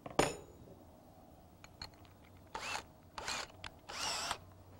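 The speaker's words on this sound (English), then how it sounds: "we're going to flip it over and drill some countersink holes from the other side." A power drill bores countersink holes into a board in three short, bright whirring bursts after an initial clink, with quiet pauses between each burst.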